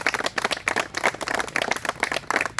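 A gathering applauds runners who performed well in a 10-kilometre marathon, with brisk, steady hand clapping from a modest group at close range, loud and continuous with no talk over it.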